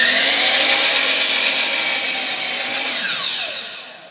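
A miter saw makes a straight chop cut through wood, its loud whining motor and blade running steadily up close, then winding down in pitch as the cut finishes.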